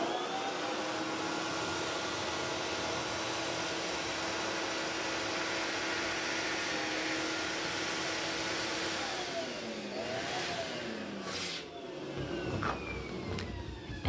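An electric inflator inflates a 24-inch latex balloon with a steady loud whooshing roar that holds for several seconds, then wavers and shifts near the end.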